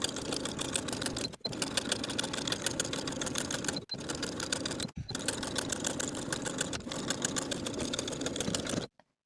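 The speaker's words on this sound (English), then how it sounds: "we're going to edge stitch close to that upper inner fold all the way across the bottom edge" A sewing machine edge-stitches along the hem of a kimono robe in a steady, whirring run. Three brief stops break the stitching before it cuts out near the end, with no talking.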